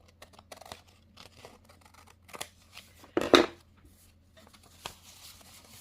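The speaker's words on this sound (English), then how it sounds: "I'm just gonna snip a little bit of that" Scissors snip through paper while an origami folio is trimmed: one crisp, close cut stands out among soft paper handling and faint rustles in a quiet room.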